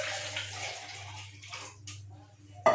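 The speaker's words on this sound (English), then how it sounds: "I will add about 700 mils of water in the mauby I just put in" Water is poured from a container onto mauby bark, a steady splashing trickle that gradually thins out and ends with a brief clink.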